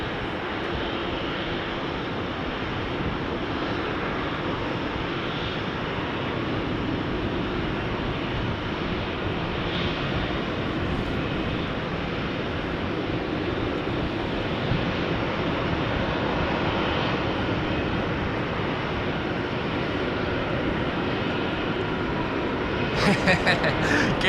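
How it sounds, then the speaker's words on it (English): KLM Boeing 777-200 jet at a rainy Amsterdam Schiphol, a continuous, moderately distant engine rumble that stays even and rises slightly near the end, with no voices over it. "Also coming into the shot is KLM flight 879 to Bangalore. Another 777-200."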